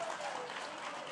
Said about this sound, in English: please, let's hold the applause until the end of the program